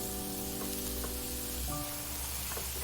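Enoki mushrooms sizzle in an oiled pan, a steady moderate frying hiss with a faint tonal hum underneath and a few soft clicks, with no voices.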